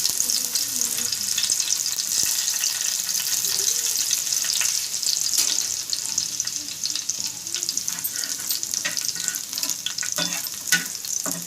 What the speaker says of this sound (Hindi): अब इसमें हम लहसुन, थोड़ा सा लहसुन जो हमने काट के रखा था ये डालेंगे।